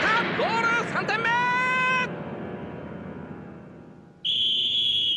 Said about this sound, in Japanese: ここで試合終了のホイッスル。